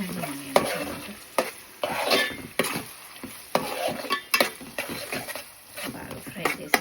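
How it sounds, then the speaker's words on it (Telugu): Onions and onion paste are stirred and fried in a pan for a fish curry, with repeated scraping strokes over a soft sizzle, while a person talks over the cooking. "ఇప్పుడు ఇది ఆనియన్స్ ఫ్రై చేసుకుంటాం. ఆనియన్ పేస్ట్ అండ్ ఆనియన్స్ అనమాట."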